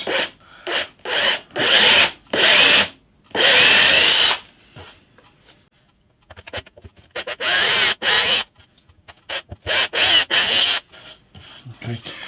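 Repeated short bursts of a power drill boring into a bass guitar's wooden body, starting and stopping in quick succession, with a quieter pause in the middle before more bursts.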